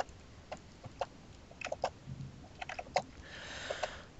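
Scattered clucks from several video game chickens in Minecraft pop up irregularly against a quiet background, with a soft rustling swell near the end.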